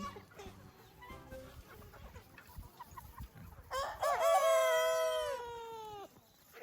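Free-range native Korean chickens on a farm, clucking softly nearby, then a rooster lets out one long, loud crow that rises and trails off, with faint rustling in the background.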